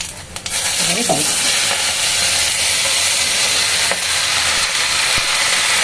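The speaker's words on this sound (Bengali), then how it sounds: "একটা শুকনো লঙ্কা দিলাম আর পাঁচ ফোড়ন দিচ্ছি" Dried chili and panch phoron hitting hot oil, setting off a loud, close, hissing sizzle that stays strong and even throughout, with a brief stir at the start.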